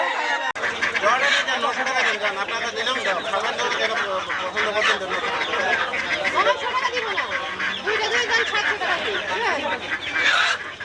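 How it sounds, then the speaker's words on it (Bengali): A dense, noisy crowd of geese and ducks honking and quacking continuously at a poultry market, mixed with loud market chatter from many people nearby. "রাজহাঁসের দোকান আছে প্রচুর অনেক রাজহাঁস"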